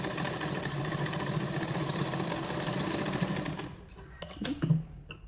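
A sewing machine stitching rounded tucks on the front of a cut blouse, its motor running in a fast, even mechanical chatter for several seconds before stopping, followed by a few close handling knocks.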